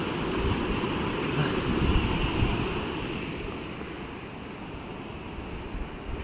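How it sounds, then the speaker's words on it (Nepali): A steady broadband rush of a river flowing below fills the scene at Rasuwagadhi, with some wind noise buffeting the microphone. "मुनि खोला रहेछ।"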